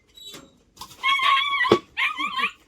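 A dog barks and yips in a few short, high bursts, close by, with brief pauses between them.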